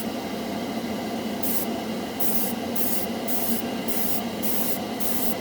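Airbrush spraying Model Master Metalizer lacquer paint with a steady close hiss of air, broken by repeated bursts of brighter spray as the trigger is pulled again and again.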